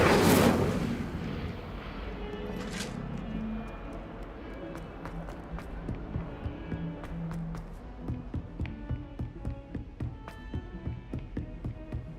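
A fire spell, Incendio, cast in the video game Hogwarts Legacy: a loud, rushing flare at the very start that quickly dies away, followed by softer rhythmic tapping and footsteps.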